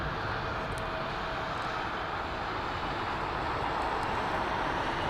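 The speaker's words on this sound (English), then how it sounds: "got some great departures out of the northern runway as well, including United 757, Aer Lingus 330s" An airliner departs from an airport's northern runway, a steady broad jet-engine roar held close and loud for the whole stretch with no talk.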